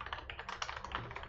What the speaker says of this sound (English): Sorry for the keyboard.